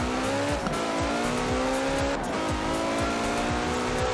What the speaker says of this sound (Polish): Teraz Maseratiego testujemy i sprawdzimy ten najdłuższy wyścig na tej mapie.